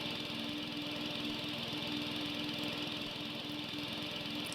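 Started by a button in the Fingerbones video game, a machine resembling a lawnmower drones steadily with a low engine hum and a faint rattling rhythm, holding constant throughout with no talk.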